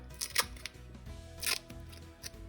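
White duct tape pulled and torn off a roll by hand, a few sharp ripping bursts separated by quieter crinkly handling, close up and with no talk.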